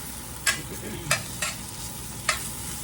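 Onions sautéing in a skillet with only a little oil, a soft steady sizzle broken by four sharp scraping stirs of a utensil across the pan.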